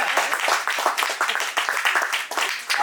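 Audience at a Hindi poetry recital claps steadily for nearly three seconds, a dense patter of many hands close by, with no talk over it.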